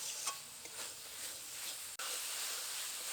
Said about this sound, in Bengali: এঁচড় আর আলু দিয়ে মশলার সাথে আবারও কিছুক্ষণ ভালো করে কষাবো